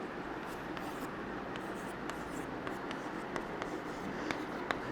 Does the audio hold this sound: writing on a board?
yes